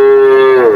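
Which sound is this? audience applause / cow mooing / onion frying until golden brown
cow mooing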